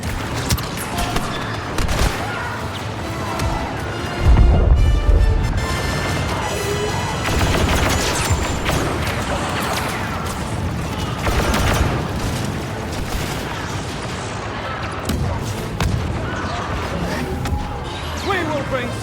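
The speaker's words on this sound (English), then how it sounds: "Grenade out!" Grenade blast and bursts of gunfire during a Star Wars Battlefront battle on Tatooine, with a heavy boom early on followed by dense, continuous combat noise, crashes and shots under game character voices.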